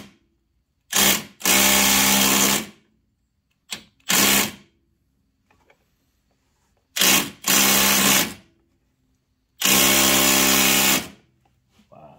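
An impact wrench works a vacuum pump bolt on a 2020 Chevy Malibu 1.5, firing in four loud bursts of rapid hammering, short and long, with silent pauses between.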